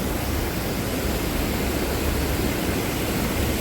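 Water rushes steadily over the full Bavnadi river dam at Nivali, a loud, unbroken broadband roar that holds constant throughout.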